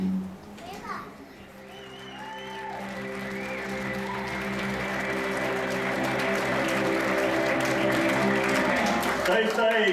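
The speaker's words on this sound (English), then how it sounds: "Another big round of applause for Jesus." A church congregation claps steadily, the applause building and holding loud, with children's voices and chatter mixed in.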